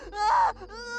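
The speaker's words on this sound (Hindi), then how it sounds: "रूपा की चीखें मिट्टी की दीवारों से टकराकर गूंज रही थीं।" A woman in labour cries out inside a mud-walled hut, a loud, strained, wavering wail followed by a second, softer drawn-out moan, close and unaccompanied.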